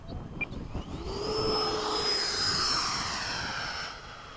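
A radio-controlled model jet makes a touch-and-go pass at a flying field, its turbine whine rising and sweeping past loud and near, then holding a steady roar as it climbs away.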